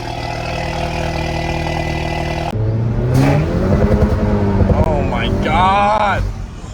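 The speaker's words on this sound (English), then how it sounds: "Downshift sounds so sexy, bro." A modified Hyundai Elantra N engine idles steadily, then revs and drops in pitch through quick blips as it downshifts, with people talking over it nearby.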